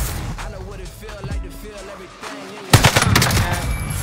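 Gunfire in a video game: quiet game ambience and faint chatter, then a sudden burst of rapid loud shots that keeps rattling to the end.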